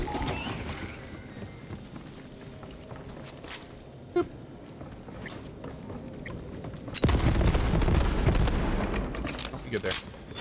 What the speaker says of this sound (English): I gotta shoot all the barrels.